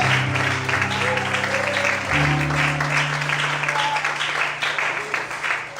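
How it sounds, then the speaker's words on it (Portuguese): Church congregation applauds during an evening sermon service, a dense, even wash of clapping with sustained musical tones beneath it and a voice calling out over the top. "Será que você pode aplaudir o Senhor essa noite?"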